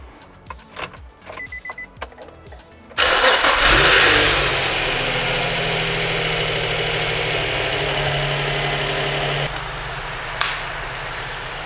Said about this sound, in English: We just appreciate how smooth it sounds and it just starts up.